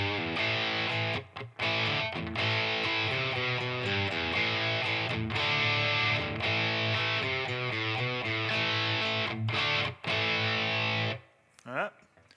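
Distorted electric guitar rhythm chords played through a Headrush rig with amp simulation, impulse response, spring reverb and Dynacomp compressor, loud and sustained strums with brief pauses, ending in a short decaying ring-out.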